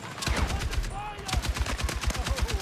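Heavy repeated gunfire in Star Citizen as an enemy tank fires on the player, a rapid loud rhythmic stream of blasts with a faint voice briefly underneath.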